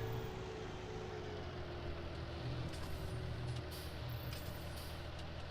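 Heavy vehicle in a farming video game, engine droning steadily up close, with brief hissing air-brake releases near the end and no talk.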